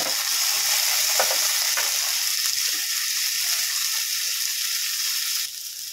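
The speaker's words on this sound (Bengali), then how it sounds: "এবারে টমেটোটা দিয়ে দেবো" Tomato is added to onion and ginger frying in a pan, giving a loud, steady, close-up hiss of sizzling oil with faint stirring clicks and no talk.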